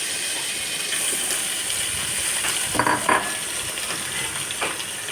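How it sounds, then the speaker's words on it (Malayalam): Sliced onions with curry leaves frying in coconut oil, making a continuous soft sizzle with a few louder bursts of crackling near the middle. "കുറച്ച് വെളിച്ചെണ്ണ ഒഴിച്ച് കറിവേപ്പില ചേർത്തിട്ട് അതിലേക്ക് നമുക്ക് സവാള ഇട്ട് കൊടുക്കാം"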